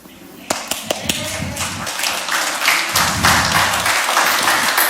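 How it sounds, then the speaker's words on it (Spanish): Church congregation clapping in praise during a Spanish-language service, a few sharp claps at first building into dense, sustained applause with voices mixed in throughout. "Dele palmas al Señor"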